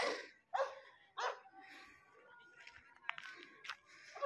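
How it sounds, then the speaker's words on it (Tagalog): A dog barks sharply a few times, spaced apart, with some yipping and shuffling noises in between, fairly close. "Ito hindi to friendly na aso."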